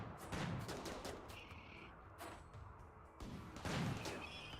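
Turret fire from the colony-building game Rimworld as a Scyther attacks the defenses, heard as a quiet, dense rattle of repeated shots with a few louder bursts, fairly faint and continuous throughout.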